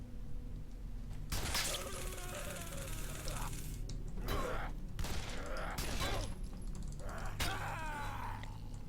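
Dense bursts of gunfire and crashing impacts in the horror video game Condemned, loud and continuous with metallic clatter and shattering layered throughout.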